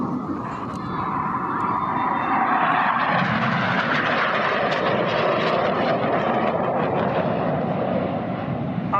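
Red Arrows jets performing an air show display at Southport, a loud continuous roar of jet engines sweeping overhead and swelling through the middle before easing slightly, with faint commentary underneath.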